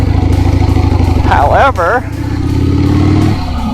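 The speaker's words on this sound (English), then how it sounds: "this motorcycle is running and riding" A vintage Harley-Davidson Sportster Ironhead motorcycle engine runs loudly and steadily up close throughout, with someone talking over it.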